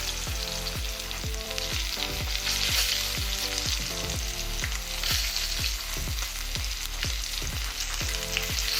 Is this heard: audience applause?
no